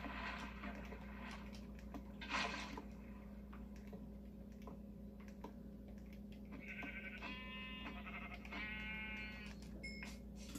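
Sheep bleating in the Minecraft video game on Nintendo Switch, a few short game bleats rising over a steady hum of background game sound.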